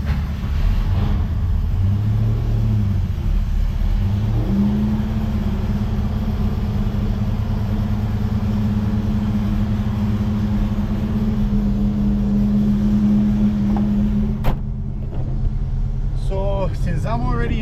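A classic 1950s car engine cranks and catches, then settles into a steady, loud, low idle that runs throughout, with a brief clank near the end.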